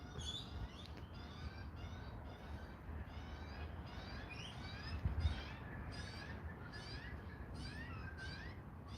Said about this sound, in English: You hear all the Australian birds that come past.